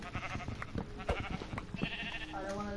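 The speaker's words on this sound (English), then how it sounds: "Where did the other sheep go up here?" A Minecraft sheep bleats faintly a few times while a player chases livestock in a blocky survival world, the calls scattered under busy game sounds and light background noise.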